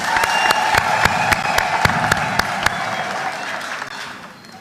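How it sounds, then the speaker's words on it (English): A crowd claps steadily in welcome for Honorable Cyrus Jirongo at a NARC-Kenya party gathering, the dense applause near and sustained with sharp individual claps standing out, tapering off toward the end. "let's clap for him and welcome him."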